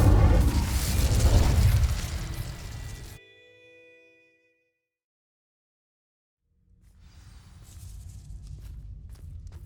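The Incendio fire spell in the video game Hogwarts Legacy sets dry vines alight with a loud roaring burst of flame. The sound drops off into silence, and a low rumbling ambience comes back after it.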